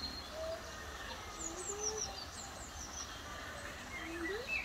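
Birds at the Welsh Mountain Zoo give thin, scattered whistles and chirps over a low outdoor rumble, quiet and somewhat distant, with a few brief rising and falling calls spread across the stretch.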